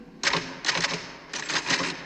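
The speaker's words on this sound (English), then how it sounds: "You hear me typing." Typewriter keys clatter in two quick bursts of rapid strikes separated by a short pause, in the film The Shining, close and crisp with no talking.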